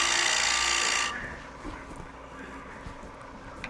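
A woodturning tool cutting wood on a lathe gives a loud, steady broadband rasping hiss for about a second, then drops to a quieter spinning hum with faint scraping touches and some speech.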